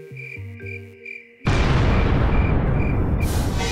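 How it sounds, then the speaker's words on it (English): A sudden loud blast in the video game Minecraft cuts in after a quiet musical passage, leaving a dense, roaring rumble that continues at high level to the end. "Where did this explosion occur?"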